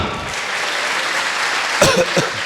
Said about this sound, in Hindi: ताली बजाइए जोरदार।